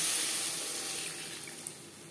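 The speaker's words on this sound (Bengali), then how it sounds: "এই পর্যায়ে দিয়ে দেবো জল।" Water pours steadily into a pan of Pabda fish curry with eggplant and vegetables, a continuous close splashing rush that tapers slightly toward the end.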